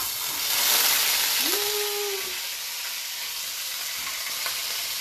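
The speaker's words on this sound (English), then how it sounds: "So we need to pan fry these right away." Dumplings drop into a hot frying pan and set off a bright, steady sizzle and hiss, loudest at first and then easing into continuous frying noise with a short tonal squeak.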